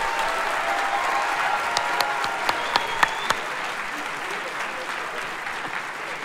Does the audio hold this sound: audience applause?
yes